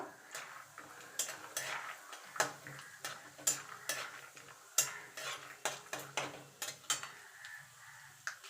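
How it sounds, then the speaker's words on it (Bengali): Peanuts fry in hot oil in a wok, and a utensil scrapes and clinks against the metal in a regular rhythm of sharp taps over a faint sizzle. Quiet overall, with no speech. "এবার বাদামগুলো ভেজে নেব।"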